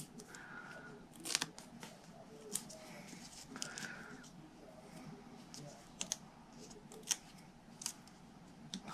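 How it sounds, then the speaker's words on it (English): Scissors snip through paper while a graduation gift card holder is being made, with a few quiet, sharp clicks and snips spread out over a soft, near-silent background with no talk. "Let me just snip it off."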